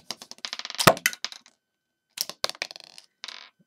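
A 2008 Lego Bionicle Phantoka launcher from the Kopaka and Vampra set fires off a sphere. A close run of sharp plastic clicks and rattles peaks in one loud crack, then a few more scattered clicks follow. No one speaks.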